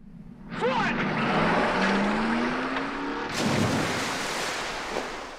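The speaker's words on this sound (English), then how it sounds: "When I count to three, you drive your car in the lake." A Stingray car from the 1971 film Billy Jack revs and roars as it drives into a lake, its engine pitch climbing and then giving way to a loud splash and rush, with voices talking over it.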